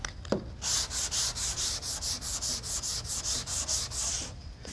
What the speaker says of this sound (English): a sanding block is dead flat